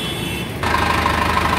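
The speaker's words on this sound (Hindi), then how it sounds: "कितनी प्यारी और धागड़ आवाज़ है ट्रैक्टर की" A four-cylinder 450 DI tractor engine starts and runs up close, a steady, rough low throb that jumps in level partway through and holds evenly after.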